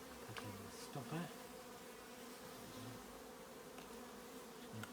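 A steady, dense drone of honey bees hovers around an open hive, with single bees buzzing nearer and louder now and then against the constant swarm hum.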